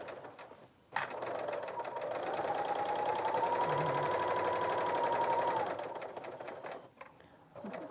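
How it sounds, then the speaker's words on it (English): A Bernina serger stitches fabric in one sustained, fast whirring run that speeds up, holds steady for several seconds and then stops, heard close with a faint click at the start. "Bernina has designed such a beautiful serger."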